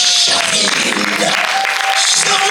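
Loud crowd applause for Sabrina at a kids' open mic in a Concordia media library, dense clapping mixed with cheers and a whistling tone, continuous throughout.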